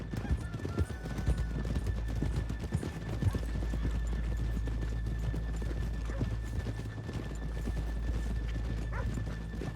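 Horses trot with steady clip-clop hoofbeats and whinny in the Red Dead Redemption 2 video game, loud and continuous over a low rumbling background.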